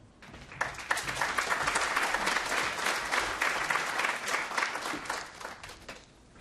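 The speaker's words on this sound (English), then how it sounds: "let's have a round of applause for all of those presenters" Conference audience applauding presenters at an internet freedom event: a full, sustained round of clapping that swells quickly, holds steady for several seconds, then tapers away.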